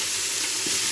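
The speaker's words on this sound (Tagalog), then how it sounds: "lagyan natin itong beef. Yan. Olive oil po yung ginamit kong oil. Sangkot lang natin ito ng 5 minutes." Beef sizzles hard in olive oil in a pot, a dense, close crackle that carries through the whole short moment, with no voices.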